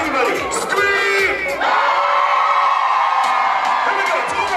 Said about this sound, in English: Now somebody, everybody, scream!